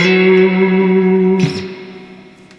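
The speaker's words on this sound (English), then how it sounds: "use a sickening amount of reverb." A sustained electric guitar chord through a Fender 1966 Deluxe Reverb amp rings out drenched in heavy reverb, its wash swelling briefly midway before a long, fading tail.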